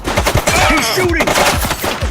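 A suspect shoots at police in The Precinct, a rapid string of loud close gunshots spread across the whole moment, mixed with a shouted voice and busy street noise.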